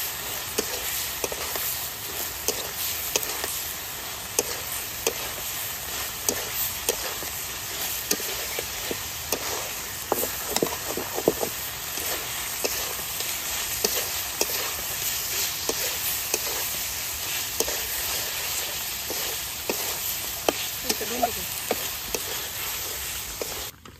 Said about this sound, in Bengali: বেশ কিছু দিয়ে মাংসটা তাহলে ভালো করে কষে নেই।